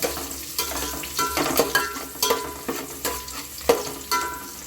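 Onions sizzle and crackle steadily as they fry until reddish-brown in hot oil for chicken gravy, with a spoon stirring and scraping the pan in a loose repeating rhythm, close up.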